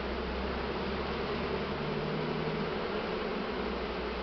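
A spring honeybee swarm being hived hums in a dense, continuous drone, close and steady throughout, with no voices over it.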